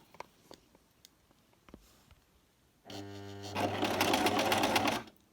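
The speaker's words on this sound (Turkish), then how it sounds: "bir miktar daha dikiyorum ki şurası sağlam olsun" A domestic sewing machine stitches a buttonhole in fabric, starting after a few faint clicks with a steady whirring run that speeds up and stays loud for about two seconds before stopping.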